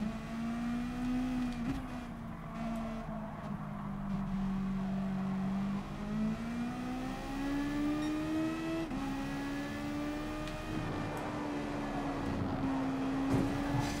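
A Super GT race car engine in Gran Turismo Sport drones steadily and fairly quietly, its pitch rising and falling through repeated shifts as the throttle is worked, with no voices over it.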